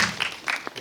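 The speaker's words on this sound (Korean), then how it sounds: "기왕에 저희 박수 한번 쳐드리죠." Cinema audience at a Korean film screening Q&A gives brief applause, a short burst of scattered hand claps lasting under a second, fairly close and moderately loud.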